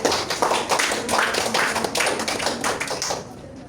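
A classroom of students clapping their hands together at the close of a micro-teaching lesson, a busy flurry of claps that fades out near the end.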